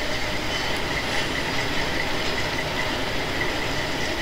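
Model train rolling past an industry siding on a Penn Central-themed layout during an operating session, a steady, continuous rolling rumble with faint wheel noise, close and even throughout, with no talking.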